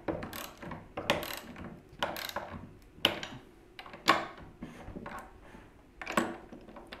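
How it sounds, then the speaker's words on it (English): Socket wrench ratcheting while seating a fastener on a rolling cabinet base build, heard as a series of short clicking bursts in separate strokes, close and fairly loud with no talk. "Socket wrench, just because you get a bigger moment arm."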